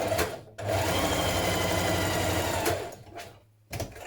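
A sewing machine stitches a 1 cm hood facing seam on a Josie hoodie in two loud, steady runs up close, the first long and the second short after a brief pause.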